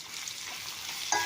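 Chili powder and meat masala being stirred in a hot frying pan for a potato and okra masala curry: a steady dry sizzle and hiss, ending with a short sharp clink of the spoon against the pan.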